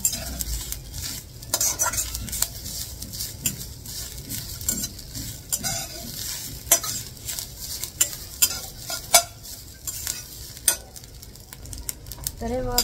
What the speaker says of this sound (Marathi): खोबरं पूर्ण लाल होईपर्यंत आपण भाजून घेऊया. आणि ही लोखंडी कढई आहे